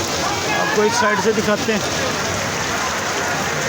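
Heavy early-morning rain pours down at an outdoor fruit market on Rasala Road in Sargodha, a dense steady hiss with someone talking close over it.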